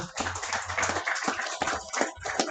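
Audience clapping at a barber bootcamp graduation ceremony, a short burst of steady applause from a crowd, moderately loud and continuous.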